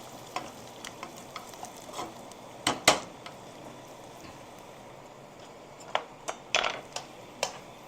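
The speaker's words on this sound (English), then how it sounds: "Let that fry down there." Dal fries in a pan with a soft, steady sizzle, broken by sharp clinks and scrapes of a utensil against the pan, scattered irregularly and clustering near the end.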